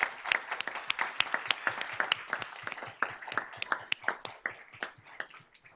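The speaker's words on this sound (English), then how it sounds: "Let's give them a round of applause." A room of audience members claps at a school board meeting, producing distinct, fairly close individual claps that build into a loose round of applause and then thin out toward the end.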